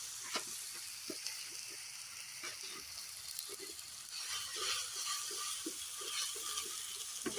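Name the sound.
ginger garlic paste frying in a clay pot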